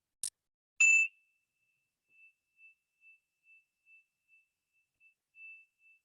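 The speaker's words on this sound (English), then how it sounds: "Well, our chimes." Chimes sound at a Sunday service in a retirement community: a couple of bright strikes, then a soft, evenly spaced series of faint ringing tones fading in and out, alone without talk.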